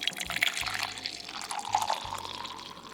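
Water pours in the video game SLARPG, a light trickling splash with faint drips that runs steadily for about three seconds under loud game music.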